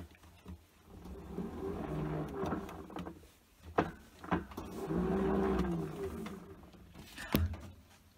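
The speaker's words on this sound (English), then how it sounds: "So all done with this Samsung washing machine, the spin cycle on this." A Samsung washing machine runs with its impeller moving, producing a low churning hum that rises and falls in two slow surges, with sharp clunks and knocks between them, close and without talk.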